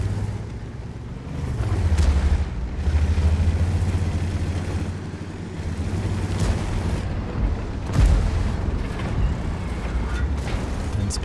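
Tank cannon fire and shell explosions in the World of Tanks video game rumble loudly with deep booms and a continuous heavy low roar, with sharp blasts punctuating the din.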